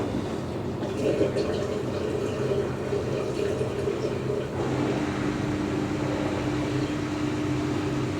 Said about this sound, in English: so it's flushing the condenser